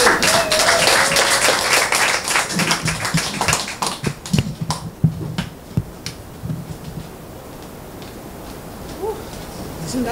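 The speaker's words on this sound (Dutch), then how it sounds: "En hier voor jullie mag ik een daverend applaus, ondanks de warmte, voor Abigail" Audience applause at an indoor poetry evening, a burst of clapping and cheering that fades over several seconds into quieter room sound with scattered taps.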